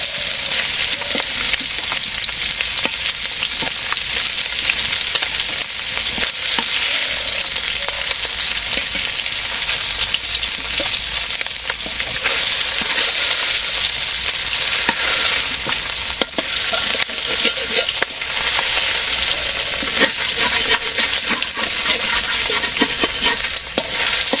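Eggplant slices (begun bhaji) fry in a pan with a steady, loud, close sizzle that holds level throughout, and occasional stirring scrapes can be heard.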